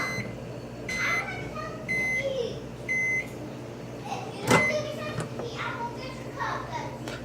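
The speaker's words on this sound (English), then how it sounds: "all you need is 15 seconds to microwave a single pizza roll" A microwave oven heats a single pizza roll, its hum running under child and adult chatter with several sharp beeps and a clunk of the door near the middle.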